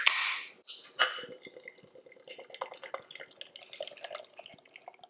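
Black Sheep pineapple milkshake IPA pours into a glass, opening with a gurgling rush from the can, then giving way to a long run of fizzy crackles and tiny popping bubbles as the beer settles.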